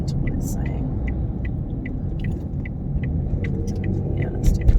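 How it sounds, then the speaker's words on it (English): A car drives through heavy road traffic, giving a steady low interior engine and road rumble with faint repeated ticking above it. "there's lots of traffic"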